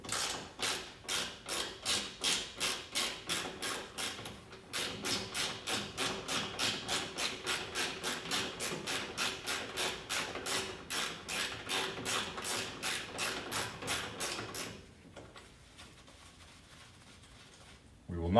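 Rapid ratcheting clicks from a socket wrench loosening strut mount bolts on a 1997 BMW E36 M3, a steady run of sharp, evenly spaced clicks close by with one brief pause, then quiet near the end.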